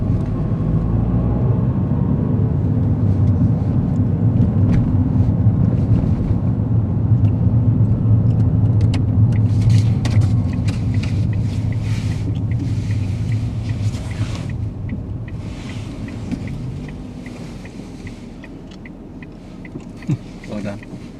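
A car on a driving test cruises and then pulls up on the left: a steady, loud low engine and road rumble inside the cabin that gradually eases and quietens toward the end.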